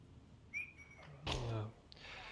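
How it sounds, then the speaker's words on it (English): A player character whistles in a multiplayer shooter match, a short high whistle followed by a thud and a brief rushing burst, all faint and distant, with no speech over it. "He whistles at him, but Razor doesn't care"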